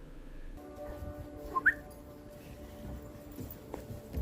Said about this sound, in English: The owner whistles.